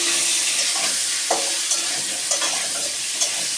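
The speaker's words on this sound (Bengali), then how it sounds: "এই তেলের উপরে একটু হলুদ দিয়েছি" Turmeric sizzling in hot oil in a pan for potol rosha, a loud, dense, steady frying hiss up close with a few light stirring scrapes and no talking.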